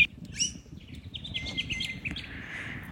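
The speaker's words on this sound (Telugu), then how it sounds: "ఐ గెస్ మీకు సౌండ్స్ వినిపిస్తూనే ఉంటాయి బర్డ్స్వి" Birds chirp at a forest campsite, with a few thin, high calls and one drawn-out whistling note over a soft, steady rustling background.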